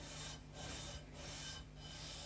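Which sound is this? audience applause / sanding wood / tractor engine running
sanding wood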